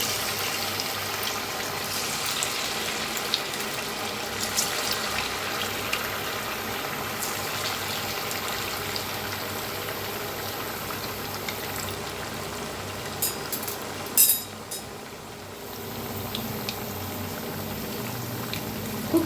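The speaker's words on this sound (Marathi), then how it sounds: "तर वड्या आपण तळून घेऊया" Steamed cabbage vadis frying in hot oil, heard as a steady dense sizzle and bubbling that runs throughout at moderate level, with a brief clatter near the end and no talk.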